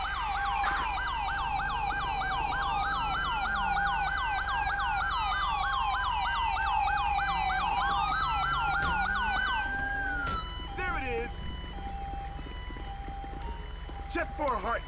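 Grand Theft Auto V ambulance siren in the LSPDFR police mod, a loud, close, rapid yelping wail that keeps cycling, then cuts to a steadier tone with street noise and a voice talking.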